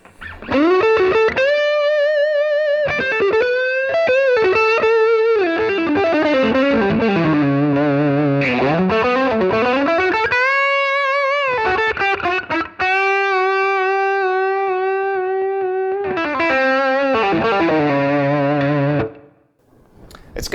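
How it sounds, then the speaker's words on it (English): An electric guitar through an overdrive pedal with the gain cranked up plays sustained melodic lines and bends, smooth yet gritty, with long ringing notes and no talking. "It's not thumpy like a rock distortion would be. It's very smooth sounding. If I crank up the gain,"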